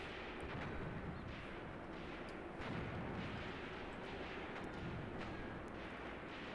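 Artillery fire in the wartime strategy game Graviteam Tactics, set on the Mius Front: a faint, dense rumble of distant battle with repeated thuds and booms, steady throughout.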